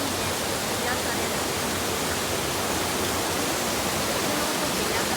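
Waterfall at Kamba Falls in Okayama, Japan, a steady broadband rush of falling water that stays constant and fairly loud throughout, with no break.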